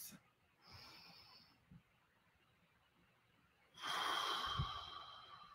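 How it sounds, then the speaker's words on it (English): A presenter takes a long, audible deep breath near the mic, a soft hiss of inhaled air, followed after a quiet pause by a louder, breathy exhale. "Everybody, put your hands on your tummy, close your eyes, and take a deep breath."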